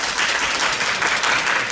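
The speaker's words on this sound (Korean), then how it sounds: "우리 박수로 맞이하겠습니다." Audience clapping at an outdoor press conference at Gumi City Hall, a dense, even burst of many hands, loud and close, with no talk over it.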